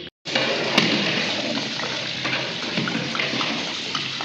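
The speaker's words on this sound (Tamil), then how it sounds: "இப்போ வந்து உலகி தண்ணி ஊற்றிக்கலாம்." Water gushing steadily and loudly from jugs into a large cooking pot for a big batch of Dindigul-style mutton biryani, starting after a brief moment of quiet and continuing without pause.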